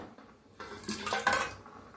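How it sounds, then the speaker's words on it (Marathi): Yogurt spooned into a steel mixer jar, with a few soft clinks and scrapes of utensil on metal over two seconds, close by with no talking. "आपण ह्याच्यात दही घालूया मिक्सरच्या भांड्यात"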